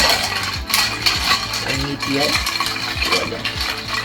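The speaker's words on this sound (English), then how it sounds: "Stir for 30 seconds." A lavender bourbon whiskey cocktail stirred with ice, a continuous close clinking and rattling of ice against glass and a bar spoon in a steady circular rhythm.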